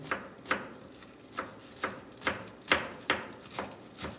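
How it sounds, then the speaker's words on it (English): A knife chops onions on a cutting board in steady, evenly spaced strokes, about nine crisp cuts over four seconds, close and fairly quiet with no talking. "I'm just gonna cut off some onions here"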